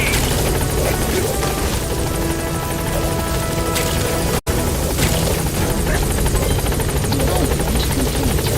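Helicopter in Metal Gear Solid V: The Phantom Pain, a loud, steady, close rotor thrum with dense chopping texture, broken once by a split-second dropout midway before resuming unchanged.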